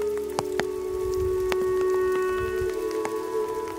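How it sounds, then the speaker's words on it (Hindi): Light rain patters steadily on a surface in a quiet forested hill area of Jharkhand, India, with occasional distinct drips standing out over a constant soft hiss; no voices. "हल्की हल्की बरसात की।"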